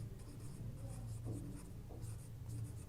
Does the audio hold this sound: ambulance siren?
no